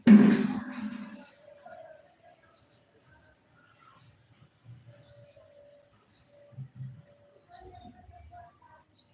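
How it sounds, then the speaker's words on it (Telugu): Small birds visiting a rose plant give a series of short, high, evenly spaced chirps, repeated about every second, faint and clear over near silence, with a few soft rustles and low bumps nearby. "ఒక్కసారి రోజ్ ప్లాంట్కి వచ్చిన బర్డ్స్ అనేవి కూడా మీరు చూసేయండి"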